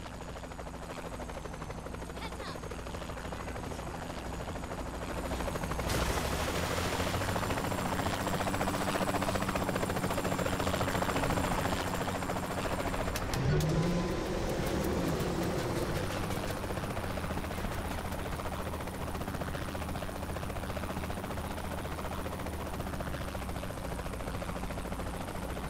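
A helicopter from the video game Saints Row: The Third drones steadily with a low rotor hum beneath game noise, holding a constant moderate level throughout.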